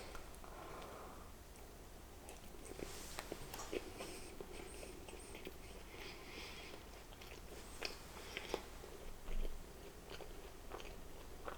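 Quiet, close-up bites and chewing of frosted chocolate Little Debbie snack cakes during an eating session, with soft irregular crunches and mouth sounds scattered through a near-silent background.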